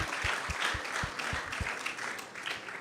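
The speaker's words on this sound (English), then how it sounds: "So let's give them a big round of applause." Audience applause closing a Krishna Katha discourse and Aarti gathering, a steady wash of clapping at moderate distance with a few thumping low knocks, soft overall and sustained throughout.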